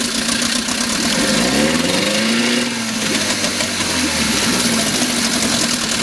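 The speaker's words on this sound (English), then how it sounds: "Let's rev it a little bit, but not much." A 1956 Scott-Atwater 7.5 hp outboard motor, all original, runs steadily and loud, briefly revving up and easing back down once before settling to a steady run.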